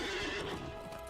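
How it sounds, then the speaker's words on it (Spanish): A horse in the game Lord of the Rings Online gives a loud, close whinny that sweeps and fades, with light hoof clip-clops underneath. "Vamos a necesitar un caballo"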